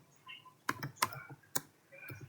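Quick bursts of keys tapped on a computer keyboard, close and crisp, in a short irregular run with no talking.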